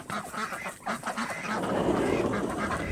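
Ducks gather near a porch at night, calling with a run of nasal honks and quacks, fairly close and fairly loud, several birds overlapping with no one talking.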